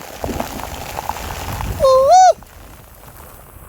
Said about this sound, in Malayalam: മുടിഞ്ഞ മഴയാണ് ഇവിടെ